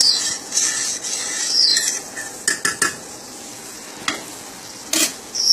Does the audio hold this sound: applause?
no